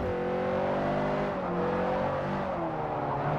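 Race car engine in Forza Motorsport 4 holds a loud, steady high-revving drone with gently shifting pitch as the car runs flat out, continuous and close, with no speech.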